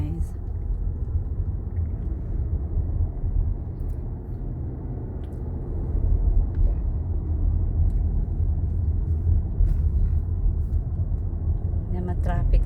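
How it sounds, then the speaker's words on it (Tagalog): Road traffic in the Philippines rumbles past, a steady low drone of cars and engines from a vehicle in slow traffic, continuous throughout with a voice talking over it. "Yan ma-traffic guys oh."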